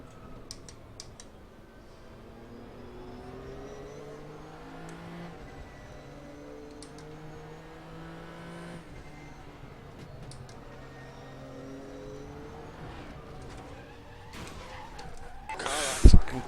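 Nissan GTR GT3 race car at Bathurst riding over a curb during a race, a steady engine drone with shifting harmonics giving way to a sudden loud burst of impact and scrabbling at the very end.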